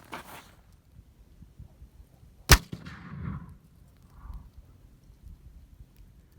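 A single sharp, loud blast from an explosive charge set in a rock cracks out of near silence, followed by a brief rumbling tail and faint scattered debris sounds.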